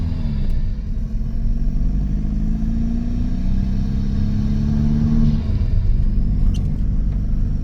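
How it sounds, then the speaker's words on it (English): A 2013 VW Jetta TDI 6-speed diesel with its emissions equipment deleted, heard from inside the cabin with the windows up. A steady, loud low engine rumble drones throughout, with a slight rising tone as it revs gently. "hopefully you guys can actually hear how this thing sounds when you're inside the car"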